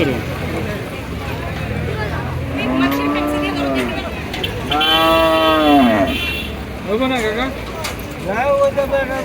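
Cattle at the Gabtoli cattle market in Dhaka before Eid al-Adha, giving several loud, drawn-out moos close by amid market bustle, with a person talking in between.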